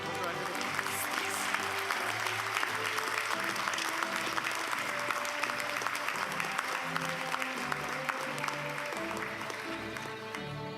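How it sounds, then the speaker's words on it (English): Sustained audience applause fills a hall at a college higher education graduation ceremony, dense continuous clapping at moderate level throughout. "You could put a round of applause"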